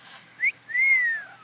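A pet bird whistles in a garden setting: a short rising chirp followed by a longer, smooth gliding whistle that falls away at the end, close and clear against quiet surroundings.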